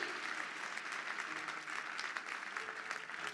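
Church congregation applauding and cheering during a sermon by a bishop, a steady wash of clapping and crowd noise that stays fairly constant and moderately quiet throughout.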